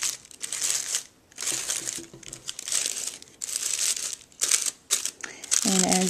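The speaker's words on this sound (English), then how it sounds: "fluff out the petals of the tissue paper" Tissue paper petals on a handmade party favor are fluffed out by hand, with bursts of close, crisp crinkling and rustling coming in repeated waves, and a voice briefly heard at the end.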